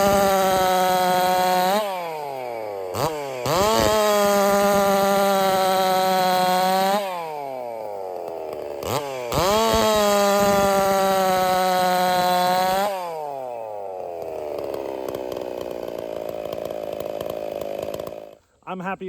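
A race chainsaw fitted with an out-of-the-box C83 chain roars at high revs in two long, loud pulls. Each pull drops back to idle between bursts, and the saw winds down to a lower, uneven idle at the end.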